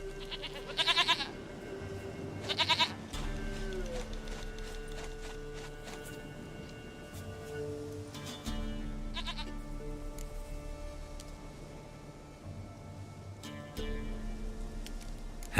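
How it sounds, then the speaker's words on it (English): Goats bleat in The Witcher 3 game world, several short loud calls over a steady game music bed, with footsteps and ambient sounds between them. "Goat of mine, dearest, sweetest goat."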